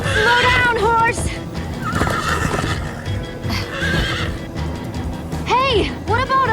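Horse whinnies from Minecraft: Story Mode, loud repeated neighs at the start and end with galloping hoofbeats and busy game sound between them.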